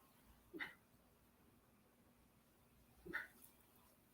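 A dog whimpers twice, a few seconds apart, each short whine fairly faint against a quiet room while it waits by the door to be let out.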